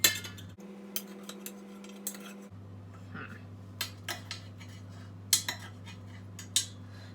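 A spoon scrapes and taps against dishes while crustless vegan quiche cups are served onto a plate, a series of short clinks over a steady low hum.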